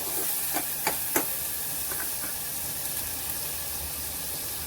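Coriander-cumin powder and turmeric sautéing in a pan for a potato and black-eyed pea curry, a constant soft hiss with a few quick scraping stir strokes early on, no speech.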